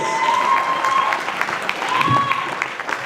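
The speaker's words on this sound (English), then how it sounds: "Let's give a round of applause for our beautiful bride's voice." An audience at a wedding sangeet applauds with a dense, steady burst of clapping close by, while a voice speaks over it.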